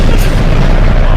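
A loud, dense explosion rumbles through a video game, a sustained deep blast with heavy low-end boom filling the whole moment, with no voices over it.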